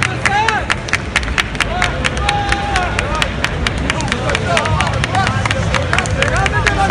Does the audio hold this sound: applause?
yes